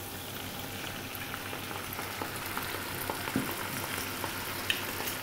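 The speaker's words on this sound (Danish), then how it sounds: "Nu lader jeg lige rødvin stå og koge en lille smule ned" Red wine simmers with onions in a pan for a sauce, a steady low sizzle and bubbling with occasional small pops, close and fairly quiet.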